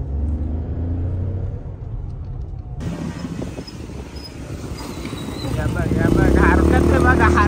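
A motorcycle engine revving during a street burnout, first a low rumble, then rising, louder revs toward the end, with people talking over it.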